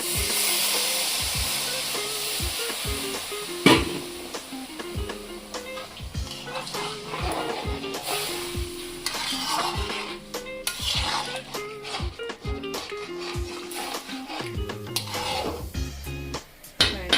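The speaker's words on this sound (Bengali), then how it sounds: "এবার একটু নেড়ে জল দিয়ে দেবো।" A spoon stirs and scrapes a pan of fish and potato curry in rhythmic clanks, with sizzling and a burst of hiss as water is poured in, then continued stirring.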